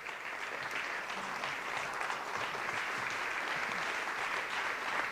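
Sustained ovation from an awards gala audience, dense and even clapping that fills the room for several seconds with no pauses.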